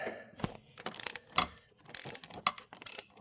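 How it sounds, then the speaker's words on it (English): A wrench ratchets on a stuck bolt or nut being tightened down, giving several short bursts of clicking pawl and metal scraping with brief pauses, fairly quiet and close, with no speech. "And I'm gonna tighten that down again."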